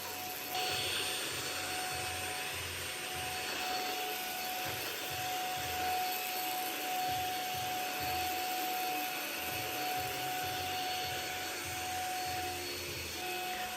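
A household vacuum cleaner runs steadily for the whole stretch with a constant whine and airflow roar, close and fairly loud, and no one speaks over it.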